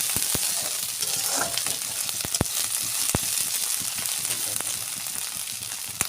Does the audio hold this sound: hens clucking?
no